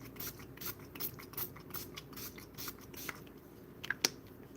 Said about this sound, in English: So we're going to spray this on.